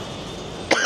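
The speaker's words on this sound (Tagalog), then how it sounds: "Sorry about the coughing." A single sharp cough from a woman with a cold, bursting out near the end against steady street traffic noise in Kolkata, India.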